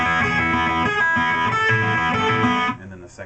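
Electric guitar plays the first riff of a song, a steady, loud, distorted chord pattern running nearly three seconds before stopping abruptly, with a faint tail after.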